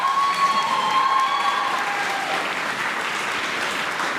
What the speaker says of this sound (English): quick round of applause for Jess.